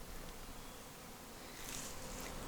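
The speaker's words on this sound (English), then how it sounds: "Wow, busy bees. Busy, busy, busy." Bees buzz steadily among garden fruit trees such as nectarine, cherry and apple in an Australian spring, a continuous close hum with no talking.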